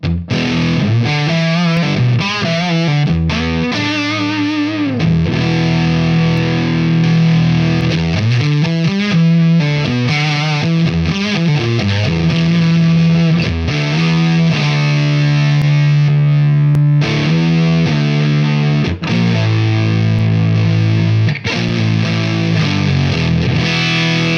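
A heavily distorted electric guitar through a Fuzz Face pedal plays a loud, continuous riff with sustained fuzzy chords and bending notes, no talking.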